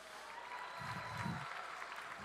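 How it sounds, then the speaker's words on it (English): An audience at a comedy show claps and cheers briefly, a short, soft wash of crowd applause with some murmuring. "so clap it up for yourselves"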